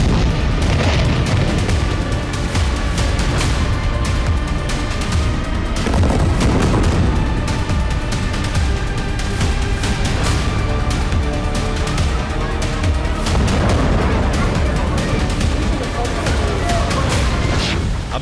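Heavy bombardment in Gaza, with loud booming blasts and rumbling impacts repeating at irregular intervals over a dense, continuous roar of background noise.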